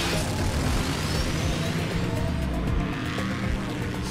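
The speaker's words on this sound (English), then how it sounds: "Then let's rev up and roll out." Animated Transformers robots in car form speeding away, a loud continuous engine roar with revving and tire squeal filling the whole stretch, with no talk over it.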